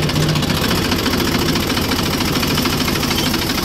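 Massey Ferguson 245 DI tractor diesel engine running in top gear, a loud, close and steady low chugging with a fast regular knock and vibration throughout.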